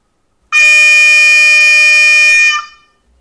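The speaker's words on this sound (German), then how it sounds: "Ich beginne mit dem Warnsignal eines Typhon" A single loud, steady typhon warning horn blast from a Märklin 49571 H0 model steam crane, lasting about two seconds, tonal and piercing, starting abruptly and cutting off with a brief tail.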